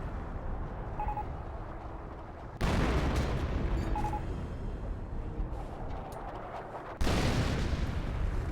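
Artillery shells from a barrage crash down in a Company of Heroes battle, two heavy booming impacts about four seconds apart over a constant rumbling din of distant gunfire and explosions.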